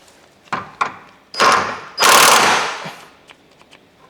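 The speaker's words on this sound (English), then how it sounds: "We're just going to start undoing the body bolts." A hand tool undoes the body bolts on a Land Rover in a workshop. A few sharp clicks lead into two longer, loud bursts of rapid ratcheting, followed by quieter taps, all close up.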